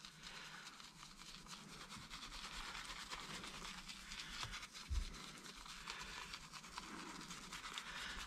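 A soft synthetic-bristle brush scrubs a leather steering wheel during cleaning, giving a steady, fine, close rustling swish that runs on evenly with no talk.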